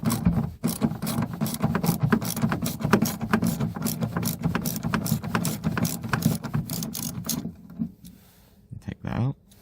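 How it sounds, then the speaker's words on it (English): A ratchet with a 10mm socket loosens a bolt while the centre brake light is being removed from a Toyota Yaris. It makes fast, regular, close clicking strokes that stop abruptly near the end. "Next, get a 10mm socket"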